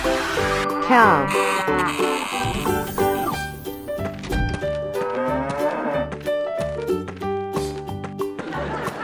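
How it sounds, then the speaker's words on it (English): Animated cow moos several times in a cartoon about farm animals, loud and close, mixed with bright music, thumps and other playful cartoon sound effects. "Cow."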